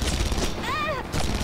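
Rapid gunfire in the Red Faction Guerrilla video game, a dense, continuous rattle of shots close up, with a brief whistling tone rising and falling through the middle.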